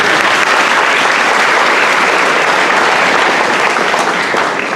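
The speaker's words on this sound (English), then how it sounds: "So give yourselves a round of applause at this time." A large graduation crowd applauds, loud dense clapping sustained evenly throughout.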